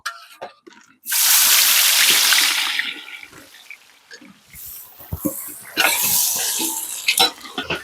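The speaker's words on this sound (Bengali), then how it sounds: "এবার ওই তেলে পেঁয়াজটা একটু ভেজে নেব" Onion dropped into hot oil left from frying katla fish, bursting into a loud, broad hiss that slowly fades, followed by scattered clatters and a second, shorter flare of sizzling, close by with no talk.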